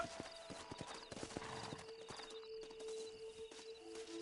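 Hooves clop in a quick, irregular trot at close range in Red Dead Redemption, fading into a steady electronic hum and tones toward the end.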